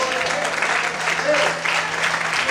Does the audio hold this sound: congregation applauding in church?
yes